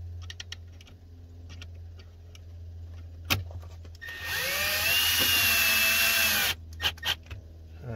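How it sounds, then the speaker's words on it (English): A power drill drives a small self-tapping screw into the mount of a trailer brake controller in a 2018–2021 VW Atlas or Cross Sport, a steady whirring run of a few seconds after faint clicks and handling noise. "You want to put a second screw in it still."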